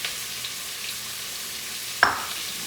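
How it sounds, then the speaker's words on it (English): Onion and linguiça fry in a pot with a steady, even sizzle, cut once by a single sharp clink or scrape of the stirring spoon against the metal. "I'm going to stir this."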